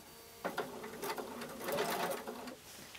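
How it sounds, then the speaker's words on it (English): A sewing machine stitches a seam in felt while making a felt banana. It gives a short, fairly quiet run of quick mechanical whirring, starting and stopping with no voices. "So let's go ahead and stitch that seam."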